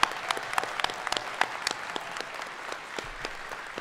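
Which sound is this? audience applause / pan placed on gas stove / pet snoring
audience applause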